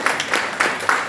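A church congregation claps together in rhythmic bursts about every third of a second, a short, moderately loud run of applause with no voices.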